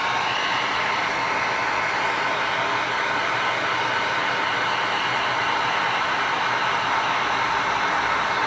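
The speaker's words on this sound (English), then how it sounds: "Get out my heat tool." Heat tool blowing hot air in a continuous steady roar, close and loud, without pause or talking.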